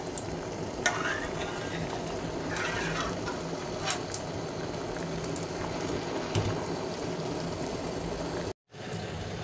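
Red currant soup simmering in a pot on a stove, a steady soft bubbling and sizzling hiss with occasional stirring clicks, continuous for several seconds before a brief cut to silence.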